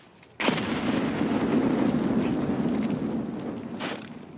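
A frag grenade explodes in the Escape from Tarkov video game, a sudden loud blast followed by a long rumbling roar that slowly fades over several seconds, with no talk.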